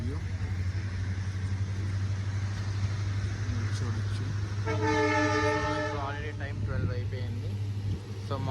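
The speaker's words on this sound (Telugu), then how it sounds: "షాద్ నగర్ నుంచి మన ట్రైన్ అది బయలుదేరిపోయింది" Train no. 17252 departing Shadnagar rumbles steadily with a low engine drone, and midway a loud horn blares for about a second; faint voices murmur in the background.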